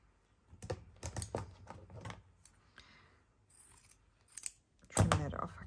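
Scissors snip through fabric to trim off an excess piece, a run of short, close, dry cuts and clicks in a quiet room, with a pause midway and a louder snip near the end.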